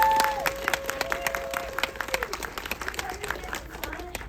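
A film Q&A audience at a cinema gives a round of applause, scattered individual claps building under a sustained vocal tone at the start, moderately near and steady.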